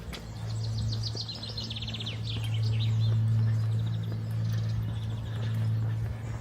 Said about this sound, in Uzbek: lekin qushlar sayrayapti